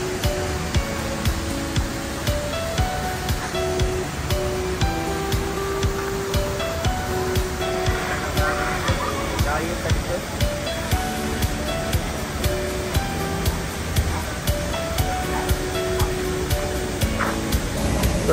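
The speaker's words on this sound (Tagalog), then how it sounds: "So ito yung falls, napakaganda." A tall waterfall in Camiguin roars as a steady, dense rush of falling water, loud and continuous with a broad hiss and no pauses.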